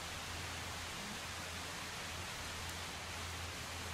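Rain in the video game Project Zomboid hisses as a steady, even wash of falling drops, faint and unbroken throughout with no other sounds.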